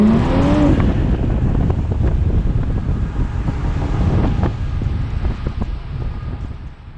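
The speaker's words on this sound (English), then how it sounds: "give you all a point of view look of driving the BMW M340i xDrive" A 2020 BMW M340i xDrive on the move, a steady loud rumble of engine and road noise mixed with wind buffeting against the microphone, heard from inside the car and easing slightly toward the end.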